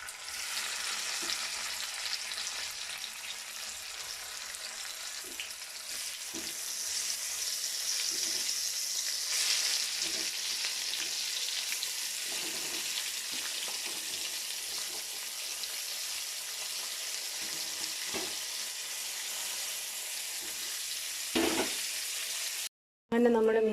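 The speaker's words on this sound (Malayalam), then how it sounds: "നമുക്ക് മീനൂടെ പൊരിച്ചെടുക്കാവേ. എണ്ണ നന്നായിട്ട് ചൂടായിട്ടാണ്." Fish fries in hot oil with curry leaves, Kerala style, giving a continuous bright sizzle with occasional spatters and low clunks, then a brief cutoff near the end.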